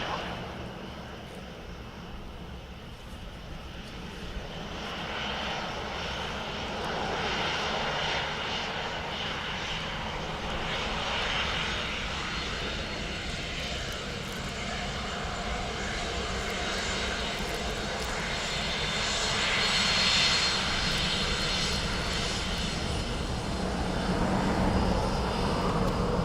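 A Scandinavian airliner comes in to land on runway 28 left at Dublin Airport, engine roar building slowly from moderate to louder near the end, a smooth continuous rumble with faint voices beneath.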